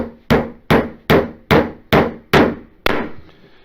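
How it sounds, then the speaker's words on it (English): Seven sharp, evenly spaced strikes of a smooth-faced hammer driving a nail into wood, each blow loud and close with a short ringing decay, no voices. "I'll set my nail with a tap, move this hand away. Now I can drive it."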